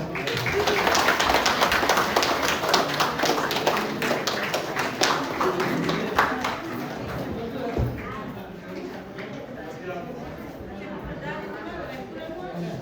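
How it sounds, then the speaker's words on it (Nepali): Audience applauding at a Ghatasthapana celebration, a dense burst of many hands clapping for several seconds that fades into softer scattered claps and crowd chatter, with people talking throughout. "सबैले ताली बजाइदिनु होला"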